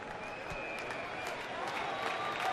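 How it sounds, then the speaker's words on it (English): A baseball stadium crowd at a San Diego at Arizona game roars and claps as a pitcher chases a strikeout, forming a loud, steady wash of cheering and applause that swells slightly toward the end. "Listen to the crowd."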